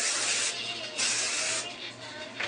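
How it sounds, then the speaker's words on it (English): Hairspray hisses from an aerosol can onto hair while curls are styled, coming in a few continuous bursts over a couple of seconds, close and fairly loud. "yes, more hairspray."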